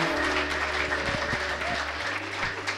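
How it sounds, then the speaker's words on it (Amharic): A church congregation claps together in steady, dense applause during a prophetic service, with a low hum and faint voices under the clapping throughout. "አጨብጭቡና ለኢየሱስ ክብር ስጡ"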